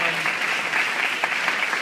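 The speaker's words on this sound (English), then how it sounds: "Now you can clap." Yeshiva audience clapping at a siyum, a dense, steady burst of applause filling the short stretch, close and fairly loud with no talk over it.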